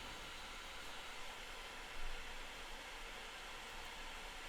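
Steady, whooshing fan noise from an AMD XFX RX 480 Ethereum mining rig with four graphics cards running, a continuous broadband hiss with a slight swell partway through.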